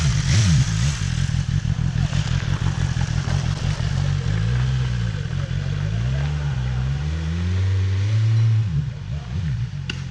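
A Honda motorcycle engine runs close by, its deep rumble rising and falling through several revs over the clip while people talk over it.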